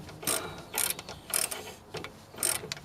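Ratchet wrench tightening a nut on a rusted steering arm, four short bursts of rapid clicking strokes separated by brief pauses, close and fairly loud with no talking.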